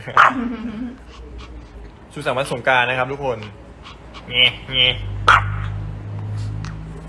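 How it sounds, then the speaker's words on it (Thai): Dog barking and whimpering in short yips while someone talks over it, close by. "เฮ้ยเห่าใครอยู่นั่นน่ะ"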